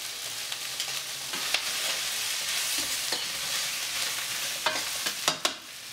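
Mushrooms sizzle in a pan for chicken Marsala, a dense hiss punctuated by several sharp clattering stirs and tosses, close-up and with no talking.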